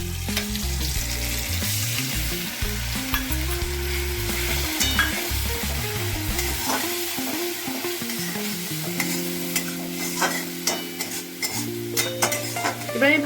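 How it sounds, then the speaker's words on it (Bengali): Spice and Kashmiri chilli paste mixed with water hitting a hot kadai, a loud sizzle with repeated scraping and clinking of a spatula as it is stirred, no voices. "এবার এই মিশ্রণটি আমি কড়াইয়ের মধ্যে দিয়ে দেবো।"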